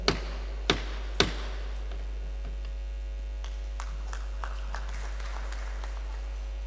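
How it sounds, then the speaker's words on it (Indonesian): Hands clap sharply three times at a regional government assembly meeting, followed by scattered, fainter taps and claps over a steady low electrical hum. "Terima kasih tepuk tangannya."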